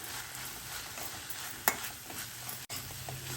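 Steady sizzle of amaranth leaves frying in a pan as garam masala is stirred in, with a sharp scrape of the spoon partway through and another brief knock later, all under continuous hiss.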